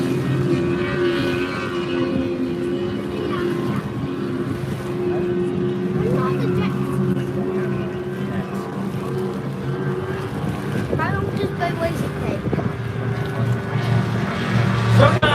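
Racing powerboats roar steadily across the water during a race, engines droning loud and continuous with wind buffeting the microphone, while a commentator talks over them.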